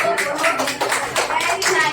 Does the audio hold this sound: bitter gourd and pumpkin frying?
no